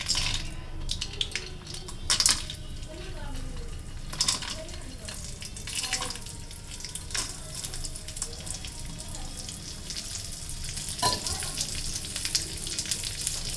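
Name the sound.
raisins frying in ghee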